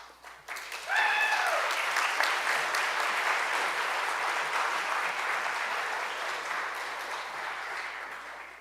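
Applause from an audience at the 2024 President's E Awards ceremony in Washington, D.C. swells quickly into a full, even wash of clapping that stays strong and then slowly thins toward the end.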